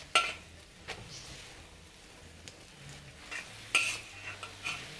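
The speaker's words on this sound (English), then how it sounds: "Mix them up well." A utensil stirs crab and rice vermicelli with sauce, coriander and spring onion in a wok: close, irregular scrapes and metallic clinks over a low sizzle, with a couple of louder knocks against the pan.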